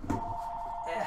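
A telephone rings in a television market news studio, a steady electronic ringing tone holding through the whole short moment, fairly prominent against a faint room background.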